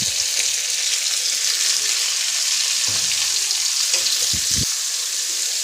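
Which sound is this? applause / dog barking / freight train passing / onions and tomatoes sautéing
onions and tomatoes sautéing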